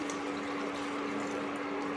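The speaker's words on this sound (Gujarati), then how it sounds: "હવે એની અંદર પાણી એડ કરીશું" Water poured into a pot of masala dal khichdi: a brief, continuous rushing pour, close and steady, with no one talking.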